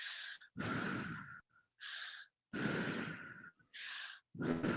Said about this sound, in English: circular breathing is in through your mouth, and like in through your nose and out through your mouth